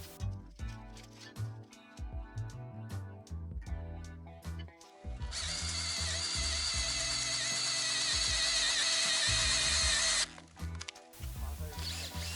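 A power drill runs loudly and steadily for about five seconds, driving bolts into deep wood on a treehouse in Japan, with rhythmic tonal background sound before and after.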